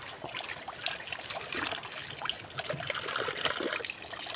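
Cold spring water trickles in a forest, a soft continuous dribbling and splashing heard close and fairly quiet, with no one speaking.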